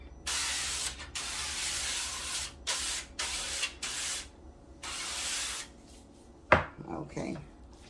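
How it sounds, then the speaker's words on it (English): Avocado oil sprayed onto a small baking pan in a home kitchen, several close hissing bursts of varying length, then a brief clatter of the pan. "So I'm gonna get ready to spray my pan."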